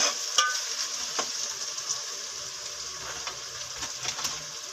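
Chopped tomatoes dropped into browned onions frying in a pan, a soft sizzle with a few clattering spoon hits, moderately quiet and steady.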